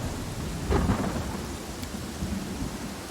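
Thunderstorm in the video game Pathfinder: Kingmaker: steady heavy rain hiss with a low rolling thunder rumble swelling briefly near the start, no voices.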